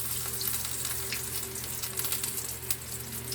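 Mushroom burger steak patties frying in a pan, a continuous close sizzle with a watery hiss and scattered small pops, no voices.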